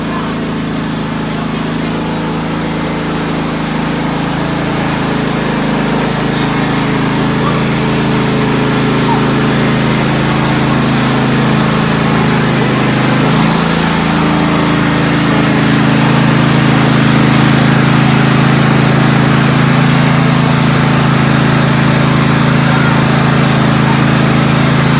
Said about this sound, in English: I'm gonna go get the tractor.